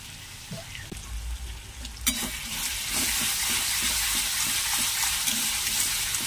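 Garlic and onion hit hot oil in a wok for a fish curry, bursting into a loud, steady sizzle about two seconds in after a quieter start, with rhythmic scraping stir strokes throughout.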